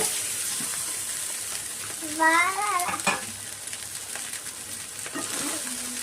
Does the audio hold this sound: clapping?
no